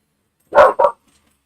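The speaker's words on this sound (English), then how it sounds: "Why are you barking?" A dog barks twice in quick succession, two loud, close barks with a short gap between them, heard alone with no other sound around them.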